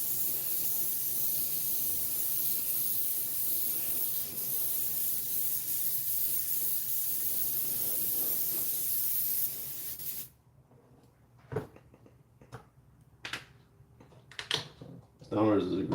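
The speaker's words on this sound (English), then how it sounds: "it's basically 2 light coats of the Styrylrez on everything." Stynylrez primer is sprayed onto a miniature in a steady, close hiss that runs for about ten seconds, then cuts off, followed by a few scattered clicks and knocks.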